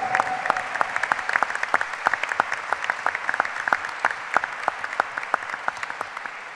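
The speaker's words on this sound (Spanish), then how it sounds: "Recontra vale ese aplauso." Applause from a human rights forum audience, many crisp individual claps in a lively continuous patter, fairly close and loud throughout.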